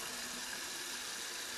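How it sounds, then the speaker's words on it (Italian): Tap water running steadily in a bathroom sink to wet a shaving brush, a continuous broadband hiss with no breaks, moderately quiet and alone. "Intanto scorre l'acqua perché io bagno il pennello."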